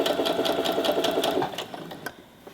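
A sewing machine stitches along a fold in blouse fabric with a fast, even run of needle clatter, then slows and stops partway through, leaving a few scattered handling sounds.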